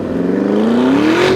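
Lamborghini Urus S with a 4-litre twin-turbo V8 revving, a loud, close engine tone climbing smoothly in pitch over a steady rumble, with no voices.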